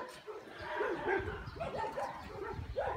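Sick rescue dogs at an emergency shelter camp bark and whimper together, with overlapping yips and whines that fill the space at moderate volume while a person talks among them.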